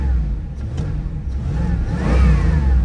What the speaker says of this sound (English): Give her a little courtesy rev.